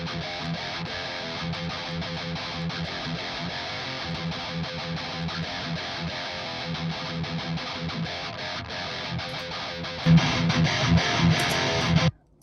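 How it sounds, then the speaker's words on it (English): A heavily distorted central heavy-metal guitar track chugs densely and continuously, layered with drums in a full mix, getting louder and brighter for the last two seconds before cutting off abruptly. "central guitar, which sounds like this."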